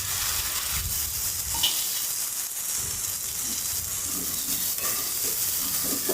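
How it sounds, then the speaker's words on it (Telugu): Onions fry in a pan for chicken curry with a continuous hissing sizzle and soft low knocks of stirring underneath. The sound is steady and moderately loud, and no one speaks. "ఉల్లిగడ్డ తొందరగా వేగిపోతుంది"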